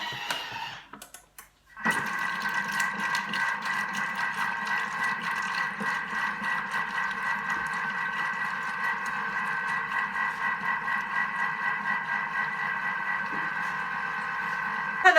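A Thermomix runs at speed 3 while heating to 37 degrees, a steady, fairly loud motorised whir with a rhythmic churning texture that starts abruptly after a brief quiet moment and continues without pause.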